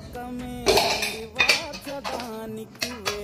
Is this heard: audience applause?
no